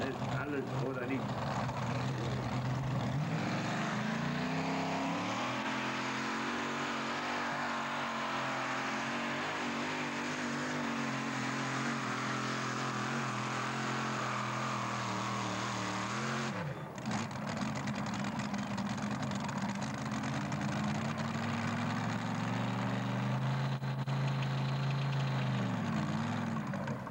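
A tractor pulls a brake sled at full throttle at a 1992 tractor pulling event in Sottrum, a sustained loud engine roar with rising and falling pitch and a brief dip midway, an announcer talking over it.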